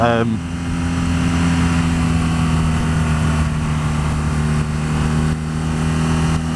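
A 2015 BMW R nine T motorcycle engine drones steadily on a test ride. The hum is continuous and close, mixed with a constant rush of wind noise.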